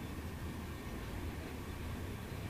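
A graffiti-covered train rolls past in a steady, broad rumble of wheels and carriages, continuous and fairly distant, with no voices.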